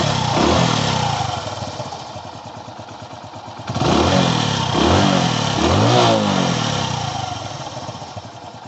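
A Hero Passion Pro 110cc motorcycle with about 25,000 km on it starts up and revs, its engine rising and falling in several throttle blips before settling toward idle, close and loud with a faint clatter and a brief spoken word.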